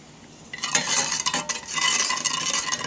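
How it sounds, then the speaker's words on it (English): Coconut milk being stirred with half a teaspoon of salt in a pot on the stove, a steady scraping and swishing that starts after a short quiet moment and continues close and fairly loud, with no talking. "Mix well with coconut milk."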